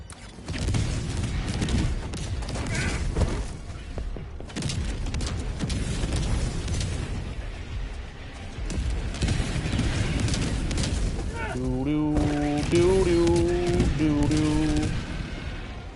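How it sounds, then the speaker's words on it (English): Napalm barrage strike in Helldivers 2, a sustained loud rumble of repeated booming blasts and crackling fire, with a rising musical tone near the end and a voice speaking over it at times. "We're just going to napalm barrage it."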